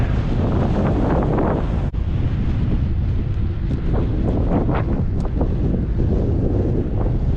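Strong wind buffets the microphone on a hilltop during a ride under gray skies in Gainesville, Cooke County, Texas, a loud, steady roar with gusty surges throughout and no talk.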